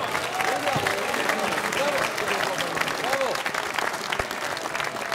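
Steady applause fills a parliament chamber, dense and continuous throughout, with a few voices calling out faintly under the clapping.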